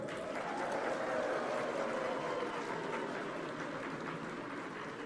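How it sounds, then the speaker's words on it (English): Audience clapping at the opening session of the Commonwealth Women's Forum in Kigali, a dense, even roar of many hands that stays steady and loud throughout. "ladies, let's give them a clap"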